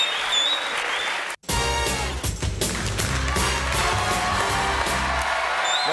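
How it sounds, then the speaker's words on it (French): A studio audience applauds at a radio show recorded at the Maison de la Radio, with sustained, dense clapping that breaks off for a moment near the start and then resumes at full strength. "Applaudissements, s'il vous plaît."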